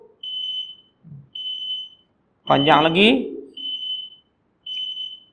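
A loud electronic alarm sounds in repeated shrill beeping bursts with short gaps between them, while a voice speaks over one burst near the middle.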